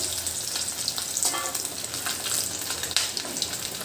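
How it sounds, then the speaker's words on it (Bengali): Steady, dense sizzle of fish frying in a hot pan, continuous crackling hiss throughout with small spattering pops, close and fairly loud, no talking. "অনেকে মাছ ভাজতে পারে না তাদের জন্য আমার এই রেসিপি দেখুন কীভাবে মাছ ভাজে"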